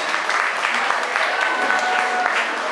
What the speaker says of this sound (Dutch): Even een applaus voor de dames.